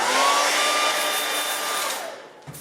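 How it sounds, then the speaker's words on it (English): A hair dryer runs close and loud with a steady airy roar and a thin motor whine, then cuts off abruptly near the end. "I'm going to start up the hair dryer"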